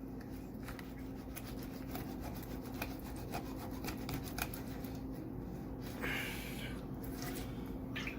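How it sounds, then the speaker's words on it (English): A knife cuts through the pin bones of a freshly caught bluegill, giving a close, steady rasping scrape with fast clicking ticks as the blade works through the fish. "you can hear the knife clicking through them."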